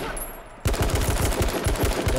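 Shotgun blasts from the battle-royale game H1Z1, a loud, rapid run of sharp reports starting abruptly after a quieter moment and continuing in a steady, closely spaced rhythm.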